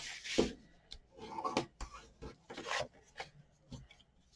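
Dry rubbing strokes of a tool burnishing a score line on a paper folio while building a 7 x 8 folio, arriving as short, close scraping passes with brief pauses between them.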